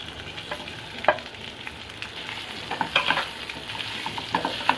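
Potato pieces fry in oil in a pan, a steady soft sizzle with intermittent stirring scrapes and small clicks, close and moderately quiet, with no talking.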